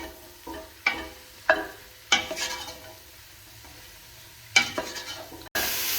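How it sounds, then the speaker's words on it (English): Mushrooms and onion sauté in a pan, a soft sizzle punctuated by about five sharp spatula scrapes and stirs at uneven intervals, close by and without speech. "I'll add the mushrooms and saute together with the onion."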